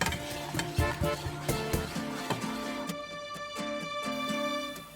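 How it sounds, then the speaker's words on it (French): Quiet sizzling of butter melting in a saucepan with a utensil scraping and tapping as it stirs, the light clinks coming in an uneven rhythm. "On mélange jusqu'à ce que le beurre fonde complètement et que le mélange bout."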